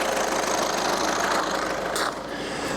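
Audi A3 1.6 TDI diesel engine idling while warming up, a steady, slightly knocking rumble heard close, with a brief faint click or rustle partway through.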